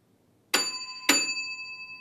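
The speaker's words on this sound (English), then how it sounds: "The exam bell will sound at the beginning of the exam" Two loud electronic bell tones ring a little over half a second apart, each with a sharp onset and a sustained ringing tail, marking the start of an anaesthesia primary examination session.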